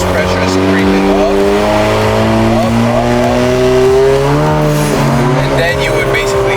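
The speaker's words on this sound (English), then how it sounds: "gas first, brakes, and as you guys can see, my boost pressure is creeping up" A Mustang GT making about 900 horsepower is brake boosted, its engine loud and close, revving up and holding high, droning pitches that rise and dip while the brakes hold the car.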